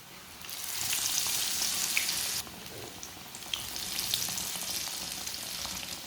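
Mini sandwiches frying in a small amount of oil over a lowered flame, giving a steady, close, continuous sizzle that drops in level partway through, then swells again with small crackles and pops.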